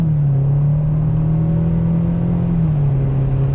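A 2013 Nissan Altima with a CVT transmission accelerating from the cabin: a steady, loud engine drone holding a nearly constant pitch with a smooth rumble, no voices.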